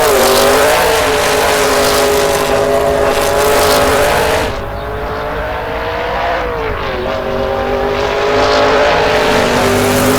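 A 1960s sportscar with a 4.9-liter V8 roars steadily in Assetto Corsa, the engine loud and close, holding a high droning pitch, dipping briefly as it lifts off, then climbing again under throttle.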